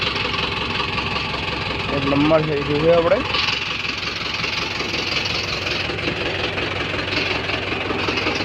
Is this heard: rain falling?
no